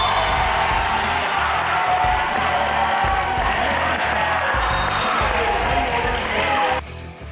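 A loud, dense crowd cheers and roars continuously at a high school girls' CIF volleyball playoff match in the Ron Pucci Pavilion during the fifth set, with whoops rising over the din before it drops away abruptly at the end.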